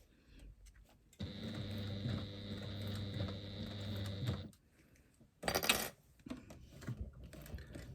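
A sewing machine stitches slowly through a lambda weave bag, giving about three seconds of steady, even whirring, then a quiet pause and a brief, louder mechanical burst.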